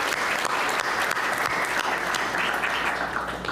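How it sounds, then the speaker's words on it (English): Audience clapping at a middle school leaving ceremony, a full continuous round of applause from a crowd, even and sustained for the whole stretch without speech. "That deserves a round of applause."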